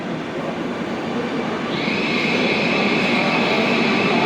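A metro train pulls into Tripunithura metro station in Kochi with a loud, steady rumbling roar, and a high squeal from the wheels or brakes sets in partway through and holds.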